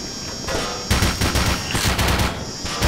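An automated turret in Black Mesa fires rapid, loud, sustained bursts of gunfire, dense and close, running almost the whole moment.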